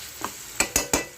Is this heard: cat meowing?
no